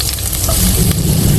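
Garlic sizzling in hot cooking oil in a home kitchen while chicken tinola is being made: a steady, close, loud frying hiss with crackles, heard alone without talk.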